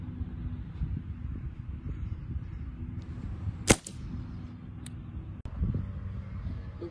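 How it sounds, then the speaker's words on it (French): A GAMO HPA IGT air rifle fires once at a target about 100 m away, a single sharp crack over low wind rumble, followed later by a couple of fainter clicks. "Donc là, on a tiré sur la cible"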